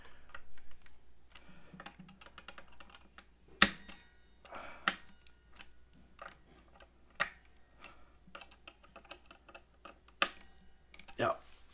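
Small screwdriver clicks and light metallic ticks as tuner screws on a guitar headstock are checked and tightened, a scattered series of faint close taps with quiet gaps between them.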